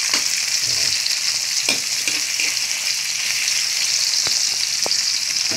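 Onion, ginger and tomato sautéing in a pan for a seafood soup with mussels and shrimp, a loud, dense, continuous sizzle close up, broken by a few brief stirring clicks.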